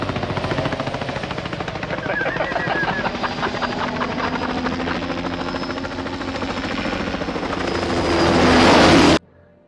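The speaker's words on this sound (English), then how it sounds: "Blofeld is flying this helicopter in crazy ways" A helicopter from a James Bond film action sequence thrums with a fast, rhythmic rotor chop under a loud engine roar, swelling louder near the end before cutting off abruptly, with gunfire-like bursts and some voices mixed in.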